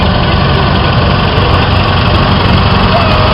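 A 1936 Farmers Union Co-op No. 3 40-horsepower tractor engine runs at a show, a loud, steady idling chug that stays even and close throughout with no talk over it.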